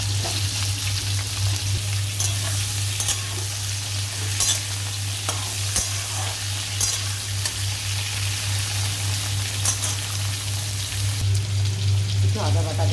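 Raw pumpkin pieces dropped into hot oil seasoned with panch phoron sizzle and crackle steadily up close, with a low hum underneath and occasional stirring scrapes.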